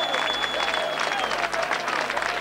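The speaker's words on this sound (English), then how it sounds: "you can hear the applause from the lead section of the crowd" A seated and standing crowd near the commentary position applauds at a 1989-90 Wakefield versus Leeds rugby league match, a brief burst of clapping with crowd murmur and a steady tone beneath.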